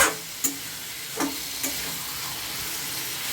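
Fish simmering with ridge gourd in a pan gives off a soft, steady sizzle, broken by a few faint scrapes or taps of a utensil, with no one speaking.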